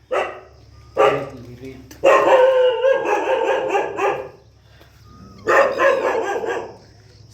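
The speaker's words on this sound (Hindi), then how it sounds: "भौंकता है बहुत ज़्यादा" A village dog along a walking pilgrimage route by the Narmada river barks and yowls in loud, close bursts, several short yelps then longer drawn-out calls, mixed with people talking nearby.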